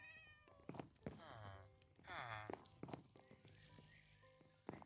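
Several cat meows ring out in modded Minecraft (MC Eternal 2), clear repeated mews mixed with horse clip-clops and whinnies and other game sounds, with a voice speaking over parts of it.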